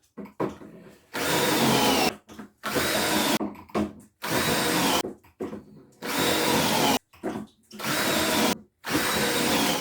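A drill bores pocket holes through a pocket hole jig into the base of a wooden garden planter box, loud, close bursts about a second long each, seven or so, separated by short pauses.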